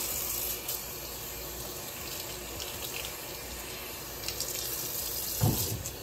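A faucet runs steadily into a sink as bleached hair on a lace frontal wig is rinsed, a constant close wash of water with small splashes and no talking.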